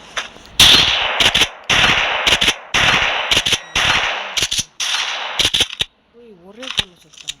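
Rapid gunfire in GTA Online, loud close bursts of automatic shots broken by short gaps, fading out near the end as a voice speaks briefly.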